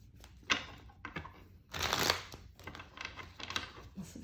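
Tarot cards shuffled by hand at a table beside a lit candle, a close series of quick papery riffles and slaps in uneven bursts, with no talking.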